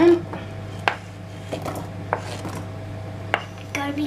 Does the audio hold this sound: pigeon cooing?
no